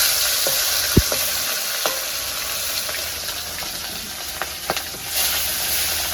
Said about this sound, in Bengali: তেল গরম হলে মাছটা দেবেন